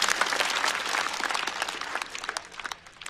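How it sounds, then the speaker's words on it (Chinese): A comedy-show audience applauds a stand-up comedian with dense, steady clapping for about three seconds. The clapping fades slightly toward the end, and there is no talk over it. "再次掌声送给步惊云"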